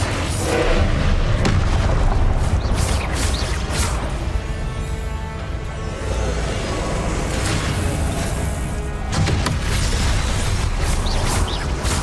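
Blasting Confringo spell explosions in the video game Hogwarts Legacy boom and crash in a dense, continuous battle mix, loud throughout, with repeated heavy impacts and no voices heard.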